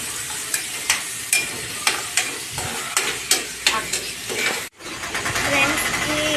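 Green chillies fry in a pan for stuffed brinjal masala curry, a steady sizzle broken by sharp stirring clinks at a quick irregular pace, close and fairly loud, with a brief cut near the end before the frying resumes.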